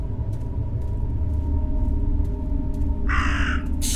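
A crow caws in the horror game Martha Is Dead, two loud harsh calls breaking in near the end over a steady low rumbling ambience.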